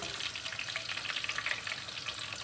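Zucchini slices fry in hot oil with a dense, continuous crackling sizzle and scattered sharp pops, steady and close, with no talking.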